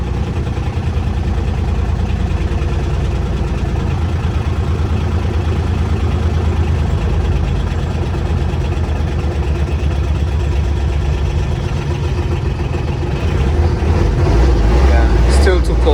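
A cold diesel engine on an Intimidator UTV runs steadily after a hard start, its loud, rough low rumble continuous throughout with no talk over it.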